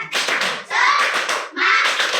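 Schoolchildren in a fifth-grade classroom doing a rhythmic spirit clap, three bursts of fast, loud group clapping close by, with children's voices calling out between and over the claps.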